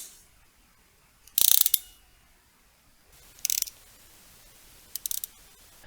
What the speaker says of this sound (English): The ratchet does not feel as precise as the DMC and is louder.